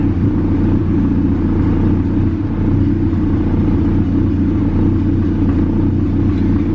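A turbocharged B16 engine in a Honda EG Civic hatchback idles steadily, giving a close, continuous low rumble with no revving.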